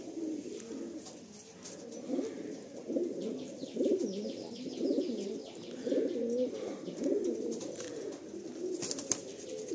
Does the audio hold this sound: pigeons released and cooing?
yes